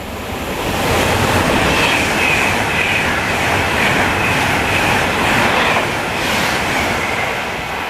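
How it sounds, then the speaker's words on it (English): A Virgin Trains Pendolino passes through Bletchley station towards London, a loud, sustained rush of wheels and air that holds steady for several seconds, with no voices over it. "Passing through is Virgin Trains Pendolino towards London"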